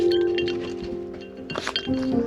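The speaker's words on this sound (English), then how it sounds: "You can even drop a couple of ice cubes in it from time to time." Ice cubes dropping into a water bowl set out to keep pet ferrets cool in summer, giving a few close, bright clinks and a small knock against the bowl.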